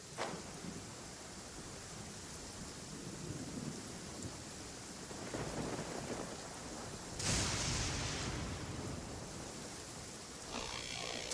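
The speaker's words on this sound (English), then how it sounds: "I love listening to the rain from the courtyard." Rain falling in a courtyard in Genshin Impact: a steady, soft hiss of rainfall, with rumbling thunder-like swells rising through it at a few points.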